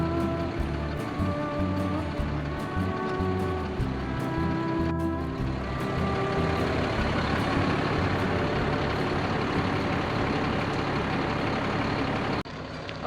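A full-time motorhome's engine rumbles as it pulls out before a Jeep is hooked up behind it. Steady tonal beeps sound over the rumble at first, then a broader, louder wash of road noise continues until an abrupt cut near the end.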